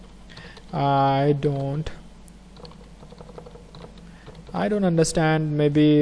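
A computer keyboard clicks softly while a comment is typed in Google Classroom, with light scattered keystrokes sitting between stretches of a voice talking nearby.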